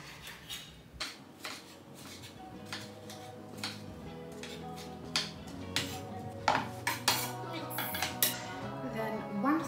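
A knife cuts two tomatoes into large pieces on a board, making soft irregular taps and light clinks at close range, over a faint steady background hum.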